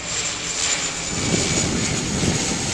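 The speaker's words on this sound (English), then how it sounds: "And here's a plane" Steady drone of a small plane flying overhead near a golf driving range, a constant engine hum with a faint whine that swells slightly, heard alone without talk.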